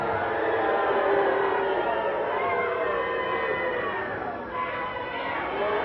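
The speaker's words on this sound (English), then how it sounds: "Crowd really getting on Madrill right now." Wrestling arena crowd at Portland Sports Arena roaring with cheers and jeers, a dense, steady wall of voices throughout with no break in the noise.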